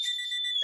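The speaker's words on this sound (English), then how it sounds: "a buzzer just sounded" A buzzer sounds at a women's football game, a steady electronic tone held for under a second, clear and alone.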